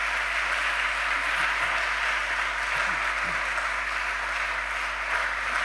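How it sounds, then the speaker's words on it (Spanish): Audience applause closing a talk at a World Day lecture event, a steady even wash of clapping sustained throughout, with a low constant hum and faint voices beneath. "por favor les despedimos con un fuerte aplauso a Patricia Aznar."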